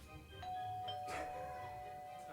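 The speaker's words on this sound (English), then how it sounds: "I love that it knocks and doorbell." A doorbell rings at a house on Halloween night, giving two soft chime tones that ring out and hang with a faint background hum, heard quietly and alone.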